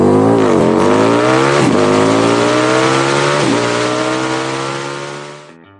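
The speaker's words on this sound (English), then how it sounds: "this is the last time this car has moved under its own power" Chevelle V8 engine revving loudly up close as the car moves under its own power, a sustained roar with several rises in pitch that fades out at the end.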